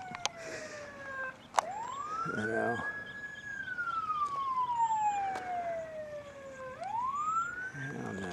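A wailing emergency siren sweeps up and down in long slow cycles at moderate distance near a road along a prison, with a brief sharp yelp and a few quiet spoken words underneath.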